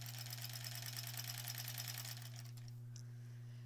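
An embroidery machine stitches a snowflake tree topper with a fast, rhythmic mechanical chatter over a steady motor hum, then the stitching stops and the hum carries on alone.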